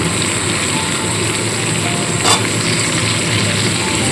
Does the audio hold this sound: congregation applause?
no